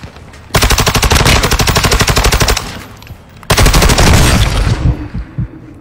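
Rapid automatic gunfire in a team-based shooter video game: two long, loud, close bursts of fast shots, separated by a short pause, with no talking.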